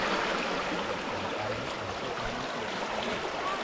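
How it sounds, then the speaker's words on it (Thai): A forest stream flows beside a campsite at Na Thon Camp View in Loei, Thailand, giving a steady, close rush of water with no pauses and no talk. "มันก็จะเป็นลำธารนะครับ"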